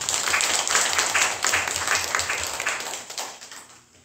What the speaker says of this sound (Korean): 하나님께 영광의 박수 드립시다